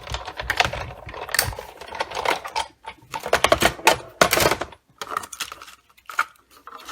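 A die cutting machine feeds dies and Sweet Soiree designer paper through its rollers, making close, rapid clattering clicks in uneven bursts with short pauses between them.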